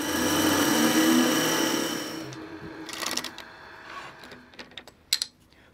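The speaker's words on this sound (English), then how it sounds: "I'm just going to take my parting tool and just part down the bottom here" A parting tool cuts into a spinning brain burl on a woodturning lathe, giving a loud, steady scraping whir for about two seconds. The sound then drops away into quieter clicks and bumps as the cut stops.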